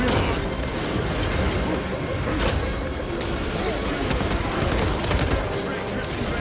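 Dense, loud rapid gunfire rattles nonstop in a Warhammer 40,000 Space Marine 2 battle, with bursts and booms layered together and shouting voices mixed in.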